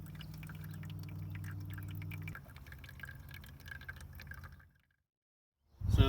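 Water trickles slowly into a homemade bucket waterer for a chicken tractor, a steady low pour and dribble, fairly quiet and close, that cuts off into silence before a short loud bump at the end.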